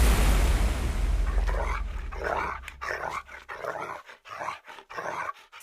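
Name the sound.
dog barking and growling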